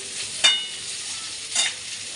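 Potato and onion fry with egg in a pan, giving a soft, steady sizzle with two brief louder bursts as the food is stirred.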